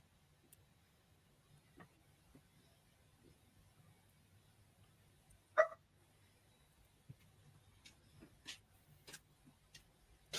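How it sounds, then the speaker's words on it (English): A dog barks, a single sharp bark fairly close in a quiet room, followed by faint scattered ticks and small knocks. "Sorry about my dog barking."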